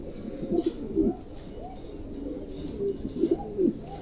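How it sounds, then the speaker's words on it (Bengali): Large Mundi pigeons cooing close by, several soft, throaty coo phrases rising and falling in repeated bursts with brief quiet gaps between. "অনেক সুন্দর একটা কবুতর, খুবই সুন্দর মাশাআল্লাহ"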